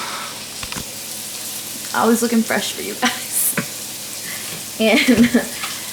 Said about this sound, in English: I'm gonna let that cook down a little bit